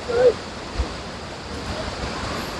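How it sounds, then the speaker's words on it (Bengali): Jog Falls, a tall waterfall in South India, with water plunging from a great height during a low-flow season: a steady, distant rushing wash like surf, with a brief voice early on. "এই হচ্ছে হাইট থেকে জলটা পড়ছে"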